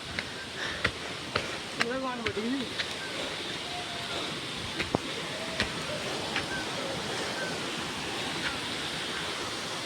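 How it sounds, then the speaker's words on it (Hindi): Steady rushing roar of a waterfall in the mountains near Rishikesh, a continuous broad wash with occasional voices and birdlike chirps on top. "ये तो वाटरफॉल के समुंदर में आ गए हम।"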